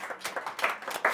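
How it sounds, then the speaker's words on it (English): A few scattered claps from a small audience at a spiritual talk, brief, uneven and fairly quiet, over about a second. "One applause."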